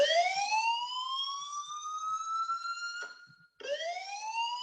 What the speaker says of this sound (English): I think that's my timer from Saturday